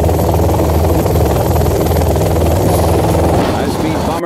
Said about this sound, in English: High-speed bomber ready for takeoff.